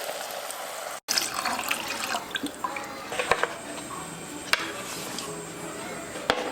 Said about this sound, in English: And now to this pot, we'll add 3 cups of water.